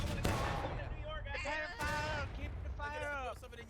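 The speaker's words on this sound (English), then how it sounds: "was that an artillery shot? Yes, it was." A single sharp artillery blast booms out once near the start of a 150-player online battle game, then talk carries on over low battlefield noise.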